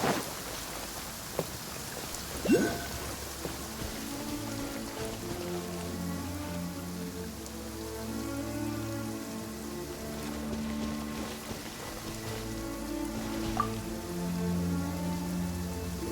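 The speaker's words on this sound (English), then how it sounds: "It's raining again." Steady rain falls in the video game Genshin Impact, making a continuous patter on surfaces with no break, while a low, calm ambient music bed plays underneath.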